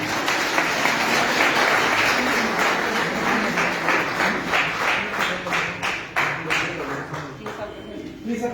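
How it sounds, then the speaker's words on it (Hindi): A crowd applauds at a municipal oath-taking ceremony, loud sustained clapping that thins toward the end into a few separate claps, with voices audible underneath. "जोरदार तालियां"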